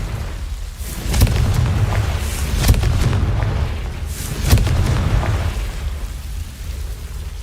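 Confringo, an explosive spell in the Hogwarts Legacy video game: three loud, deep blasts about a second and a half apart, each a sharp crack with a rumbling tail, over a continuous low roar.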